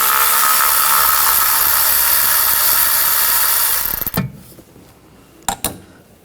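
A power tool with an 8mm socket spins a bolt out on a 2013-2019 Ford Escape 2.0L engine, a loud steady whir lasting about four seconds before it stops, followed by a few light metallic knocks.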